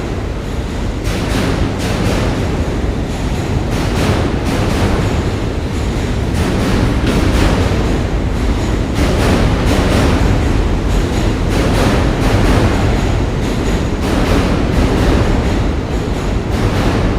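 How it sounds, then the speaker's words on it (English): A train crossing a bridge between Manhattan and Brooklyn, passing close by: a loud, continuous rumble with rhythmic clattering wheel beats throughout and no speech. "I don't remember the last time I heard the train that close and loud before."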